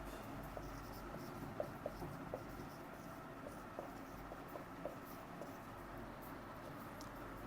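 Pen scratching on paper during a class 6 lesson, a steady faint scribbling texture with soft taps, close and quiet against a low background hum.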